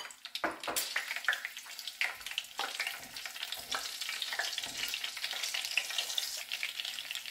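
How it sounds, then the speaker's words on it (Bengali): Nigella seeds tempering in hot oil for a Bengali katla fish dish, a busy crackling sizzle with sharp spitting pops throughout, close and fairly loud, no voices. "আর তার সাথে দেব একটু কালি জিরে ফোড়ন দিয়ে আমি এই রান্নাটা করব।"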